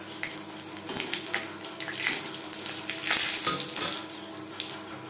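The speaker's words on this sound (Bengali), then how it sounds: "20-25 সেকেন্ড লঙ্কা ভেজে নেওয়ার পর দিয়ে দেব 5 ফোড়ন, একটা তেজপাতা," Chilli, five-spice and a torn bay leaf frying in hot oil while cooking masoor dal with onion, a soft, steady sizzle with faint scattered crackles and pops throughout, fairly quiet.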